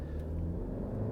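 A 2020 Honda Civic Sport Touring hatchback under full throttle in sport mode, a steady low engine rumble and drone heard from inside the cabin, with no voices.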